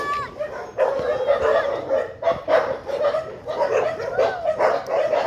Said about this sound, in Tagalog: Aso na yan! Daming aso!